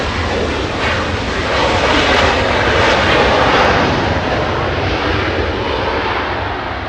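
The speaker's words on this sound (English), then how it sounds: "There it is, China Airlines. China Airlines, this one flying to Taiwan." A China Airlines airliner arriving at Los Angeles International Airport, a close, loud jet engine roar that builds to a peak midway and then eases slightly, with no voices.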